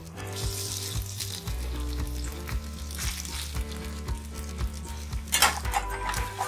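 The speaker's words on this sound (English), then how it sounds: "Now start roasting them. You have to roast them, you have to stir them continuously because potatoes can stick to the pan." Mashed potatoes roasting in ghee in a hot pan for aloo halwa, a steady close sizzle with repeated scraping strokes of a spoon stirring continuously against the pan, no talking.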